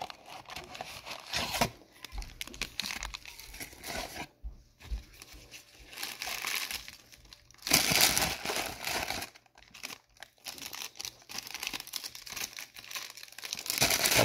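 Retail blaster boxes of trading cards being ripped open: foil wrappers crinkle and tear in repeated close bursts, with short quiet gaps between packs.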